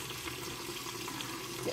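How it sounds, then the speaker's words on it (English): A tap runs as hands are wet at a sink, a soft continuous stream of water splashing at close range with no voices. "I'm wetting my hands with my fingers pointing down."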